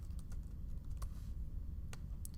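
Sparse, quiet keystrokes on a computer keyboard while entering labels into an Excel spreadsheet, a few distinct clicks over a low steady hum, with no talk.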